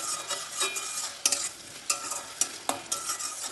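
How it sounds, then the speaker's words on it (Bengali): Spices stir-fried in oil with a splash of spice-rinsing water for a fish curry, a near, steady sizzle broken by repeated spatula scrapes against the pan at an even pace. "তেলের সাথে একটু কষিয়ে নেব"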